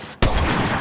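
Video game gunfire: a sudden loud burst of rapid shots starting abruptly and running dense and sustained to the end, with no talk over it.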